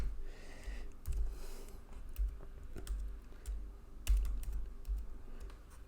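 Someone types Rust code on a computer keyboard: close, quiet, irregular key clicks and taps with occasional louder thumps, nothing else heard.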